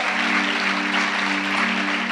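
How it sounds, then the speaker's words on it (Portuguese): A church congregation applauds loudly during a sermon, a dense, continuous wash of clapping that fills the room at constant strength. "Se for para ele, meu irmão, pode aplaudir mais alto."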